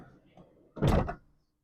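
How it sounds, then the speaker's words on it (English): The sliding side door of a 2022 Ford Transit Connect passenger van shuts in a single loud, heavy thud with a brief rattle. Faint, indistinct sound precedes it, then quiet follows. "you have another sliding door"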